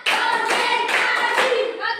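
Several loud, close hand claps in a quick rhythmic pattern, with faint voices mixed in.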